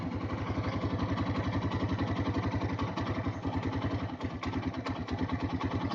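Hero Karizma-R motorcycle engine idling at around 1000 rpm, heard up close: a steady, even, rapid thrumming beat holds throughout with only slight wavering, and no one speaks.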